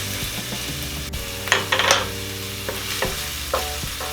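Garlic fries in oil toward light brown, a close sizzle under a low steady hum, broken by several sharp spatters and clinks of a spoon against the pan.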